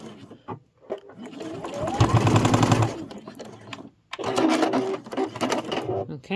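A sewing machine runs in a couple of fast, steady mechanical bursts as it stitches a cross body sling bag, separated by brief pauses, close and fairly loud, with a person talking softly in between.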